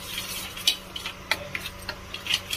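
A spoon stirs red chili powder and cumin powder through a pan of soya chaap korma masala, giving a run of soft, close scraping clicks over a faint sizzle, with no talking.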